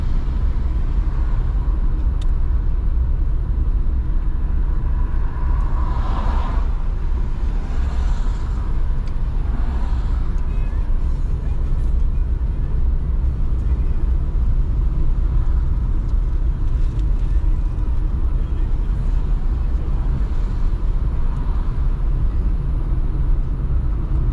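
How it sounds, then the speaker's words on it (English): Steady low rumble of road traffic crawling in a jam, heard from inside a vehicle as a constant engine and tyre drone with faint passing swells and no talk. "Another traffic snarl up."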